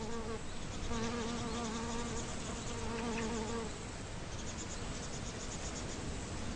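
Steady buzzing of bees with wavering tones, close by and continuous, fading somewhat toward the end, as they visit water hyacinth flowers.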